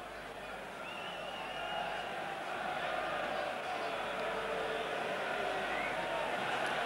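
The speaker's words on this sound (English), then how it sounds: "An absolutely tremendous atmosphere and a huge crowd at Central Park today." Huge stadium crowd at a rugby league cup semi-final at Central Park, a steady distant roar and murmur that holds throughout and swells slightly.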